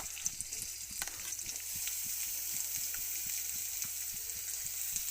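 Onion frying in hot oil in a wok while potato paratha stuffing is made, a steady close sizzle with regular stirring scrapes ticking through it.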